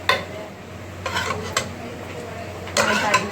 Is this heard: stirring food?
yes